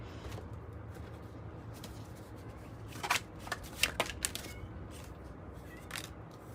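A tarot oracle deck is shuffled by hand in soft, steady rustles, with a few crisper riffles and card snaps clustered in the middle and near the end.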